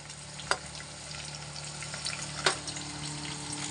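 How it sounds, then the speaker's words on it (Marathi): Chopped onions fry in oil in a pan, giving a soft steady sizzle with two brief clicks of utensil contact. "अर्धा किलोला 2 मोठे कांदे कापून घेतलेले आहेत ते टाकत आहे"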